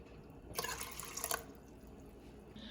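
Water is poured into a cooking pot for lentils, a short splashing burst that rises and then stops, fairly faint and with no one talking.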